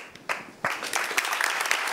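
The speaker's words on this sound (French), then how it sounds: "On l'applaudit pendant qu'elle arrive." An audience on a talk show applauds as a participant walks up; after a moment of quiet, scattered claps start and quickly swell into steady applause.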